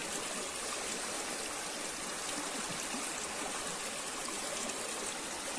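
Water splashing and swirling steadily in a gold pan while rinsing gravel from a creek during gold panning, a continuous close wash of trickling and sloshing with no pauses.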